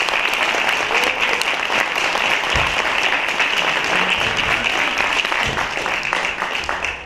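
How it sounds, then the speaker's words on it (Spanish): An audience at a communication seminar gives a sustained round of applause for a speaker being introduced: steady, crisp clapping from many hands, loud and unbroken, tapering slightly near the end. "Un aplauso, por favor."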